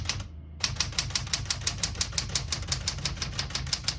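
Keys struck on a 1975 Smith-Corona Classic 12 portable typewriter, a steady run of crisp, evenly spaced mechanical clacks, close and loud after a brief pause at the start.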